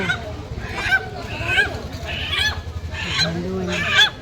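Poultry calling at a Bengal market, a rooster among the birds, with repeated harsh honking squawks every second or so, fairly close, over steady crowd noise.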